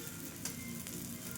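Spices frying in a hot pan in a home kitchen, a continuous close sizzle with faint stirring scrapes, no talk.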